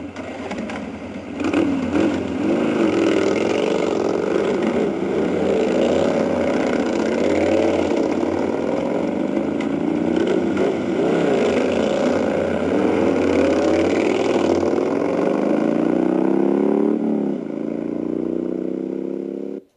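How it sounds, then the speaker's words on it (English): Harley-Davidson motorcycles start and ride out on a touring trip near Banff, Alberta, a steady loud engine rumble with revving swells running throughout, no talk over it. "Now let's crank up the Harleys and get this ride underway."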